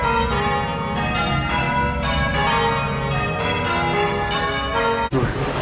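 Church tower bells cast in 1786 ring in Holmfirth, Yorkshire, a loud, close peal of repeated overlapping strikes in steady rhythm, cut off near the end.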